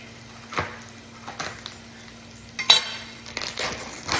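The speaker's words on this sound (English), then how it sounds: "I'll get those onions sweating" Onions sweat in a pan with a soft, steady sizzle, broken by a few sharp clinks and scrapes of a utensil against the pan; no talking.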